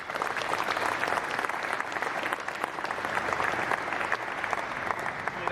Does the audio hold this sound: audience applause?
yes